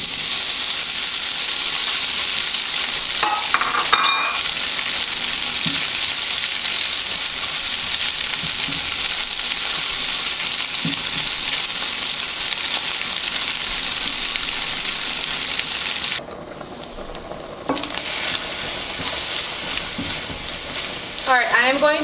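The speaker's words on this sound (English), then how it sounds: "I'm going to take my tofu right now and put it on this pan right here." Tofu laid into a pan of oil heated for a couple of minutes hisses loudly and continuously, with a few clicks and scrapes, a short dip in the sizzle late on, then renewed spattering.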